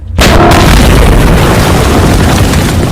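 A tank shell from the White Tiger tank explodes in a World War II war film from 2012. It bursts in suddenly and loudly, then rolls on as a heavy, sustained rumble with debris, and no voices are heard.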